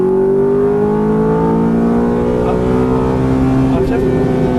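Ferrari F430 engine accelerating hard on a race track, a loud, steady rising drone heard from inside the car, with a brief dip near the end as it shifts up.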